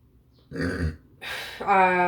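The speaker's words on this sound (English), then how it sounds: "I got a burp" A single loud, drawn-out burp rises out of quiet, with a short throaty grunt and a sustained voiced tone right after it.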